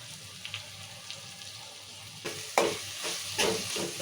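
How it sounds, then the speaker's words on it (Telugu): A spoon stirs a village-style chicken curry base of soft tomato, turmeric and salt in a pan, with a faint sizzle, then louder scraping and sloshing strokes near the end. "పసుపు ఉప్పు వేసాక ఒకసారి ఇలా కలుపుకుందాము"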